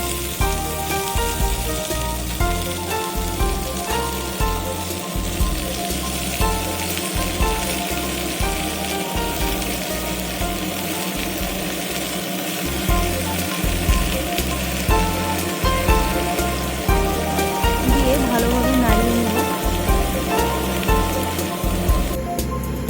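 Vegetables sizzle and crackle steadily in a hot pan as they are added to frying food for labra, with a soft recurring thump underneath and no voices.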